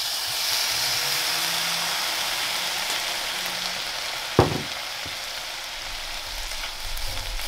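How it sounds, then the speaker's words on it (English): Sausages frying in a pan with a dash of red wine added to deglaze it, giving a steady broadband sizzle throughout, with one sharp louder hiss partway through and a few soft clinks near the end. "something else I wanted to add in just to help deglaze my frying pan a bit is just a dash of red wine"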